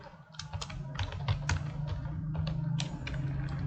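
Someone types "hello world" on a computer keyboard, producing a quick run of distinct key clicks close up, with a low steady hum beneath and no talking.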